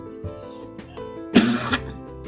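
A single harsh cough bursts out close by, short and throaty, over a quiet background.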